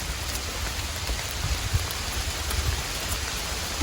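Steady rain pattering on leaves and ground during mushroom picking in the forest, a dense continuous hiss with scattered close drops, no voices.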